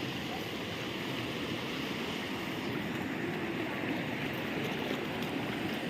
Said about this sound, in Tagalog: Ilog yun ah.